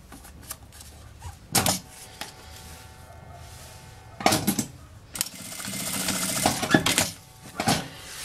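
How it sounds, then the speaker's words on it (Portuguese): A sewing machine stitches along the edge of a fabric waist bag, with short mechanical bursts of rapid clattering separated by quiet pauses and small clicks of handling, near and fairly loud. "eu vou pegar esse ladinho aqui e eu vou costurar aqui, ó, na beiradinha"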